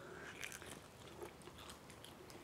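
Quiet, close crunching bites into a crispy-skinned air fryer Mexican-style chicken drumstick, a few crackly bites and chewing sounds over low background hiss.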